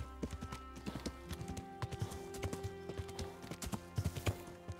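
Hooves of a horse in the video game Kingdom Come Deliverance clip-clop in a quick, even rhythm, loud and close, with a faint low background hum and no speech.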